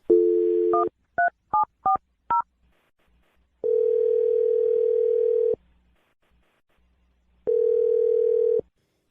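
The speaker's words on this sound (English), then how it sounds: "I'm going to dial Jake's phone number right now." Telephone dialing: a steady dial tone, then four quick touch-tone keypad beeps, followed by two long ringback tones separated by silence. No talking.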